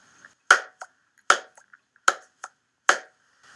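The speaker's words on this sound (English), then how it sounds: "Okay, that's when I clapped my hands." Four sharp hand claps made to sync audio and video ring out alone at an even interval, each crisp and close, with faint small taps between them in an otherwise quiet room.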